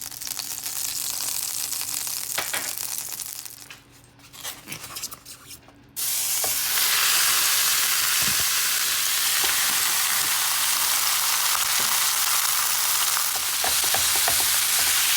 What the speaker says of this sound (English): Gotta love that sound of a sizzle.